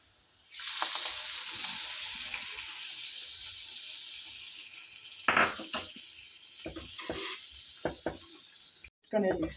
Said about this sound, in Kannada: ಒಗ್ಗರಣೆ ಹಾಕೋತಾ ಇದ್ದೀನಿ